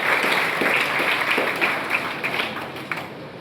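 A crowd at a school program breaks into thunderous applause, a dense, continuous roar of many hands clapping at once that holds steady and tapers slightly toward the end.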